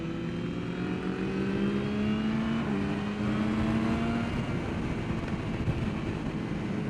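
A Ducati 999R motorcycle accelerating on a racetrack, its engine tone climbing steadily as the throttle opens, loud and continuous with heavy wind rush.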